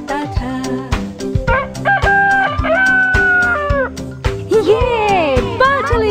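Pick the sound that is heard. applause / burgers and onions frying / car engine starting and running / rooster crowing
rooster crowing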